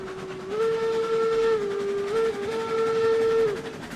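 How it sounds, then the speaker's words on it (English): A steam locomotive whistle in the railway game RailRoads Online blows loud and steady for several seconds with a brief dip in the middle, heard alone at close range. "That whistle is just not as punchy as I remember it."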